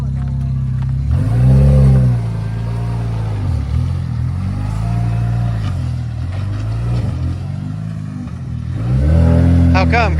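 Car crawling along at about ten miles an hour in freeway traffic, a steady loud engine hum with gentle rises and falls in pitch as it eases on and off the throttle, close and continuous throughout.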